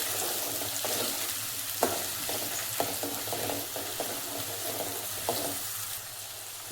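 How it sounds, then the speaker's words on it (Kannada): Curry leaves fry lightly in a pan, a continuous hissing sizzle with soft, scattered stirring clicks. "ಕರ್ಬೇವಿನ ಸೊಪ್ಪು ಸ್ವಲ್ಪ, ಸ್ವಲ್ಪ ಲೈಟಾಗಿ ಒಂದು ಫ್ರೈ ಮಾಡ್ಕೊಂಡ್ಬಿಡೋಣ"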